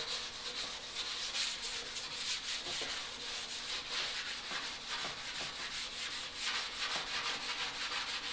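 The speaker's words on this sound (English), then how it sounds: "right now I'm using like a 220 grit sandpaper" Steady rasping of 220 grit sandpaper rubbed back and forth, continuous with rhythmic strokes, close up and moderately loud.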